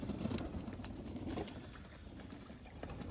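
Young racing pigeons at a loft for an RPRA one-loft race coo softly and steadily, low and fairly faint, with light fluttering and rustling mixed into the background.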